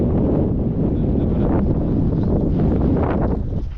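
Strong wind buffets the microphone over Kasperivske Reservoir with a loud, continuous rumbling roar that barely changes throughout.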